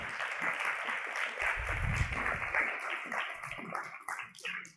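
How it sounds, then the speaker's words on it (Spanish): Congregation at an evangelical church service breaking into steady applause, a dense crackle of many hands clapping, with a low rumble swelling midway and the clapping thinning out toward the end. "un aplausito"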